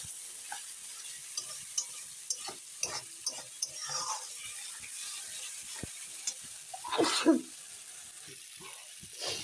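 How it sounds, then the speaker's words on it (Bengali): A spoon scrapes and stirs potatoes and spices fried down in a pan for a rohu fish curry, with soft sizzling and scattered clinks, building to a louder burst of scraping near the end. "আলু দিয়ে মশলা দিয়ে ভালো করে কষানো হয়ে গেছে"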